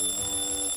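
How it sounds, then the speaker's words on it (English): An alarm clock rings with a steady high electronic tone, sustained and fairly faint, lasting the whole brief moment. "His alarm clock."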